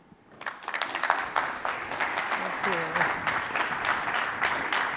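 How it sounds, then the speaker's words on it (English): An event audience breaks into applause as a guest speaker takes the stage, clapping building quickly from quiet to a sustained, lively round, with a voice briefly heard over it midway. "everybody give us a really big round of applause for Heidi Kühn"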